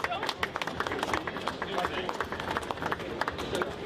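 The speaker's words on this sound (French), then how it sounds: "Vous pouvez l'applaudir, s'il vous plaît." Audience applause at an agricultural fair award ceremony for rum medals, with scattered, distinct claps of uneven rhythm from a modest crowd, and voices talking underneath.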